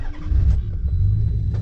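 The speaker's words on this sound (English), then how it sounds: "Car starts right up, all the warning lights properly shut off once the engine is running." A 1991 Nissan 300ZX Twin Turbo starts and settles into a steady, deep idle, its engine rumble continuous and close.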